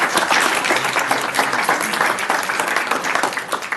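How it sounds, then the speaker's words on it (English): An audience at a city council regular meeting in Manhattan Beach breaks into a burst of clapping, dense and fairly loud, tapering slightly toward the end. "So round of applause for you guys."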